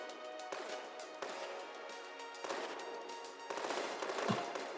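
A video game auto cannon fires rapid volleys, dense bursts of repeated shots in several distinct rolling clusters, fairly faint with no talk over them.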